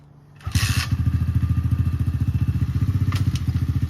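A small pit bike with a tuned carburetor fires up and rides close by, its single-cylinder engine putting out a loud, fast, evenly pulsing thump that holds steady to the end.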